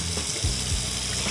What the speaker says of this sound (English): Just let that water run just so that it can heat up, and then I'll fill the bucket up.